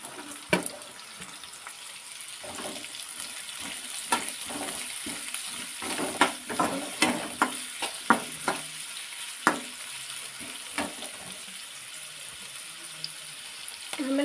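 Onion and chili frying in a pan while cabbage gobi manchurian is being cooked, a steady sizzle broken by repeated clicks and scrapes of stirring, close and fairly quiet, with no talking.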